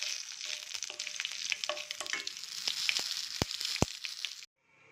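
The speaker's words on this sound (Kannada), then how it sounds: "ಇದ್ರ ಮೇಲೆ ಒಗ್ಗರಣೆ ಹಾಕ್ತೀನಿ ಚಟ್ನಿ ಮೇಲೆ" A tempering of spices sizzling in hot oil for chutney gives a continuous close crackling hiss with pops and stirring scrapes, a couple of sharp knocks near the end, then it cuts to near silence.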